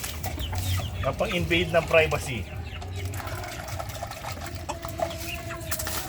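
Chickens cluck nearby in a busy yard, with people talking over them throughout.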